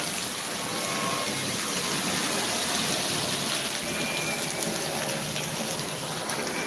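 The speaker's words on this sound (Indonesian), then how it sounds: "Hujan guys, hujan." Night rain streams down around a shop's overhanging eaves, a dense, full rushing noise that stays loud and steady throughout, alone without talk.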